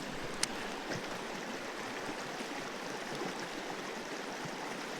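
Rushing white water in a tiny trout creek roars as a steady, close, broadband wash that runs unbroken throughout, with a faint tick near the beginning.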